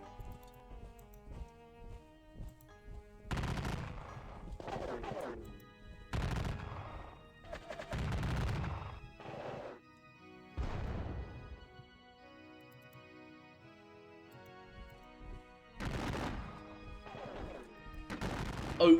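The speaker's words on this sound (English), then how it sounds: "start exchanging gunfire with the defenders" Gunfire from a Battle of Gettysburg war game comes in several separate bursts and volleys over steady background music, with quieter gaps between the shots.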